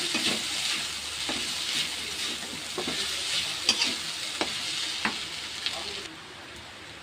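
A snack fried in a pan with black pepper powder gives a loud, steady sizzle, close up, with light stirring taps at intervals, and the sizzle drops away sharply near the end.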